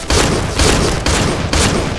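Loud, close bursts of rapid gunfire from the video game Point Blank, several volleys in quick succession filling the moment with no voices over them.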